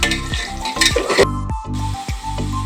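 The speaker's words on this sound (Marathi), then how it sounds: "तर हा कांदा आता परतून घ्यायचा आहे।" Chopped onion stirred and sautéed in a hot pan: steady sizzling frying with repeated scraping strokes of a spoon against the pan, close and loud, no voices.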